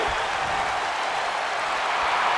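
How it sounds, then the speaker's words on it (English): A wrestling video game arena crowd roars in a dense, unbroken wash of cheering and applause, loud and steady throughout with no clear voices standing out. "Dragonov drawing a big reaction from the crowd."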